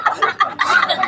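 A hen clucks loudly and close by in a rural comedy skit, giving a short burst of rapid, throaty clucks that lasts about a second.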